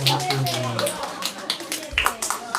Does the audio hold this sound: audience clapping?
yes